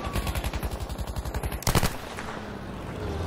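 In the Battlefield V video game, a machine gun fires a fast, even burst of close, loud shots, ending in a heavier blast before a lower rumbling background.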